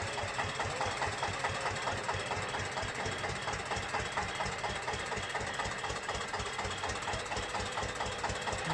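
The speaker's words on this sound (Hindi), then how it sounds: "चलो तो भाई ट्रैक्टर निकल रहा है बाहर।" Tractor engine idling steadily as it pulls out on a farm, a low, even diesel knock that stays fairly close and constant throughout, with no talking.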